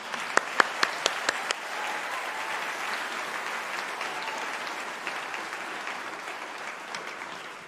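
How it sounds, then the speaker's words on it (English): Sustained convocation applause, a dense wash of many hands clapping that opens with a few sharp, distinct claps and then stays steady before tapering off slightly at the end. "Please join me in giving a round of applause to those who have done so much to get you here"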